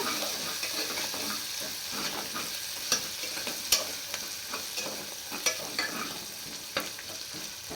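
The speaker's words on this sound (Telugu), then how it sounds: "పచ్చి వాసన పోయేదాకా వేయించుకోవాలండి అల్లం వెల్లుల్లి పేస్ట్" Ginger garlic paste fries in a pan for veg biryani, a continuous close sizzle with occasional scrapes and clicks from stirring, no voices.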